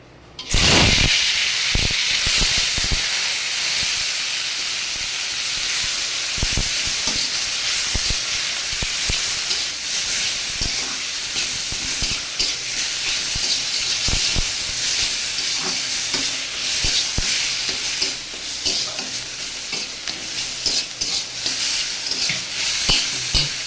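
Red amaranth leaves frying in hot oil: a loud, constant sizzle and hiss with repeated scraping and clinks of a spatula stirring the pan.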